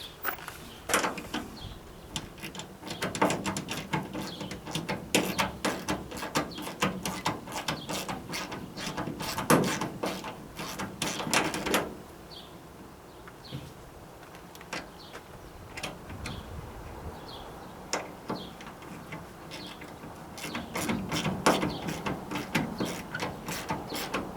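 A ratchet fitted with a 10mm socket tightens the window bolts on a Chevrolet G10/G20/G30 or GMC Vandura van during a pop-out window install: close, repeated bursts of quick mechanical clicking with short pauses between, no talking.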